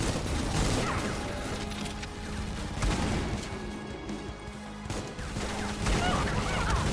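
Chain gunner enemy firing in the shooter Supplice, a dense sustained burst of rapid gunfire with crashing impacts running through the whole stretch, layered over game music and effects.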